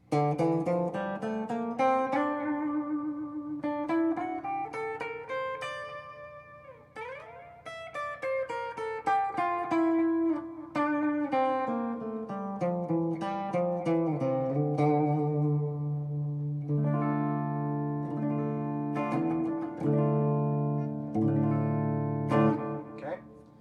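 Guitar playing a minor scale, notes stepping up and then back down in a steady run, followed by sustained chords that ring out near the end.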